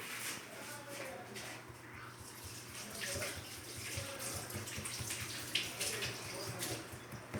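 Water pours quietly into flour while dough for potato parathas is made, a soft trickling and splashing that goes on steadily, with a voice faintly present.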